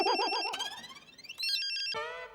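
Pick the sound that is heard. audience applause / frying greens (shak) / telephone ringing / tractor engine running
telephone ringing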